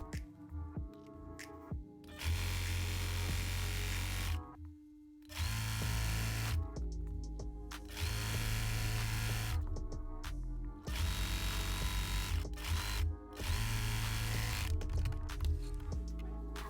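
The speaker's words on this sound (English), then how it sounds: "I'm going to sew it right sides together" A sewing machine stitches swimsuit triangle pieces with their lining, whirring loud in several runs of a few seconds each, separated by brief pauses.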